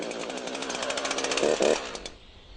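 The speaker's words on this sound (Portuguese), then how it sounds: "Acelere o motor uma vez para passar para o regime de ralenti." A Husqvarna chainsaw engine runs loud and close, revving up to a rough peak before dropping off toward idle.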